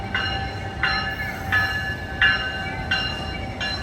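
An Amtrak San Joaquin passenger train arriving at Emeryville station, with a station or crossing bell clanging in six even, evenly spaced strikes over the low rumble of the approaching train.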